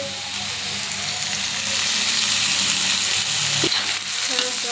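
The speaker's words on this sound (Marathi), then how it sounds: "लालसर भाजून घ्यायचा कांदा." Chopped onion frying in hot oil for egg bhurji, a loud, close, continuous sizzle with a brief stirring clatter partway through.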